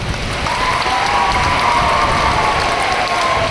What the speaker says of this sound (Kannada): ಫಸ್ಟು ಎಲ್ಲ ಮಕ್ಳಿಗೆ ಒಂದು ದೊಡ್ಡ ಚಪ್ಪಾಳೆ ಅಂತ